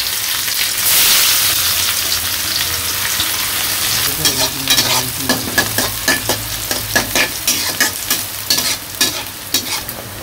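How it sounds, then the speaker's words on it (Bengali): Chopped onions fry in oil in a village wok for Eid pulao and meat, a loud, close sizzle joined midway by a run of rhythmic scraping stirring strokes, with no talking. "পেঁয়াজ কুচি আছে, পেঁয়াজ কুচি দিয়ে দিই।"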